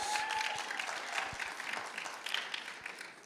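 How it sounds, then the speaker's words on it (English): Church congregation cheering and clapping at a Sunday morning service, a steady wash of applause with scattered whoops and hand claps lasting the whole stretch, fairly distant and even. "can we just cheer now in honor of Pastor Russell and Nikki"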